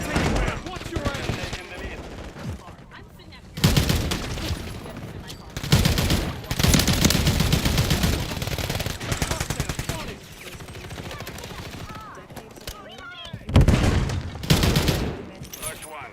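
Gunfire in a Call of Duty: Modern Warfare 3 multiplayer match, loud bursts of automatic fire and explosive shots in repeated clusters, with game voice callouts in between.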